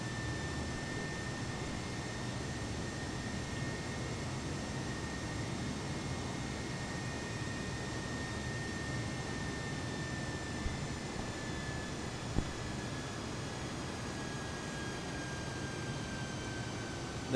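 Airliner jet engines in Microsoft Flight Simulator give a steady, even cabin-like roar with a faint high whine, throttled back near cruise altitude. The sound holds constant with a couple of tiny clicks and no talking.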